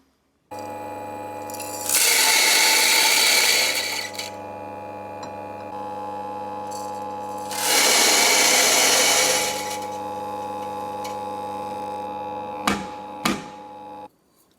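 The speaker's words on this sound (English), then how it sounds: "The coffee is ground. I made it pretty coarse." A Diting Sweet Lab coffee grinder grinds beans to a coarse filter setting: a steady electric motor hum with two louder, gritty grinding surges, then a couple of sharp clicks as it winds down.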